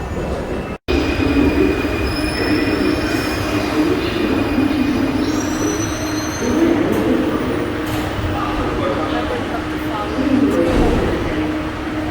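A Paris Metro train rumbles loudly and continuously, with high thin wheel squeals rising and sliding over the roar, up close inside or beside the moving car.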